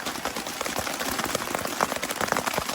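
Rain falls on a tent at night in the wild, a dense, steady patter of close drops with scattered louder hits throughout.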